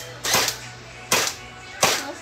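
A gel blaster toy gun fired three times at an indoor wall, each shot a sharp snappy pop with brief rattle, spaced under a second apart and heard up close.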